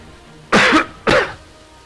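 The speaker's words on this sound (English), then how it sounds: "Sorry for all the coughing, guys." Two sharp, raspy coughs from a person with a sore throat, about half a second apart, close and loud over quiet background.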